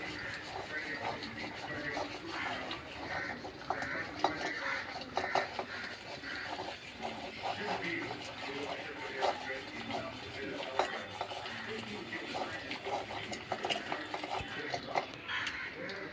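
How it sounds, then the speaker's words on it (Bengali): Lentil dal being mashed with a wooden dal masher in a pot of boiled dal with turmeric, giving steady, repeated soft clacking and sloshing strokes at close range, with some faint talk in the background. "এবার ডাল ঘুটনি দিয়ে ডালটাকে আমি একটু ঘেটে দেবো"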